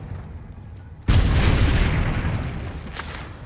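A Bombarda spell goes off in Hogwarts Legacy, with a sudden deep boom followed by a long rumbling blast that slowly fades, and a second sharp crack near the end.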